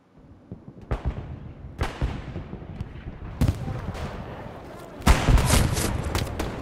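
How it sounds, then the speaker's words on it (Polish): Grenade and bomb blasts in the PS5 war game Hell Let Loose, several sharp booming explosions at irregular intervals, one especially heavy near the end, over a low rumbling battlefield background. "Z jakąś bombą czy granatem rzucił."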